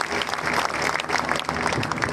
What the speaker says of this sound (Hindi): जोरदार तालियां इस गुड़िया के लिए।